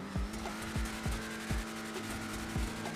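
A custom BF Weevil car idles in GTA 5, its exhaust giving a low rumbling hum with rhythmic thumping pulses about every half second, steady and close with no talking.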